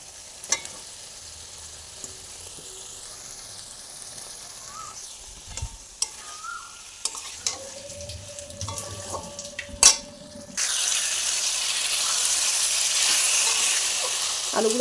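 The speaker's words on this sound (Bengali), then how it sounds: "আলুগুলো কিছুক্ষণের সাথে মিশিয়ে নিতে হবে।" Potatoes are stirred into a jackfruit kofta curry masala in a pan: soft spoon scrapes and clinks over a gentle sizzle, which turns into a louder, steady hiss toward the end.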